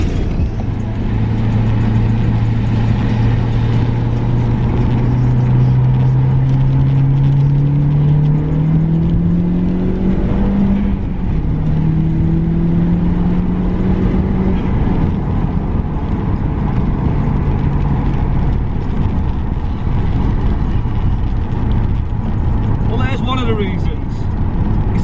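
Engine of an Audi Mark 1 TT car running steadily throughout while it is manoeuvred into a parking space, a low droning hum with rising and falling revs, mostly alone with no talk over it.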